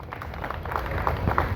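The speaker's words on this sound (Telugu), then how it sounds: "అందరూ క్లాప్స్ కొట్టండి." Audience at an Independence Day ceremony applauding municipal workers, a brief patter of many hands clapping at moderate distance, steady and fairly faint over a room hum.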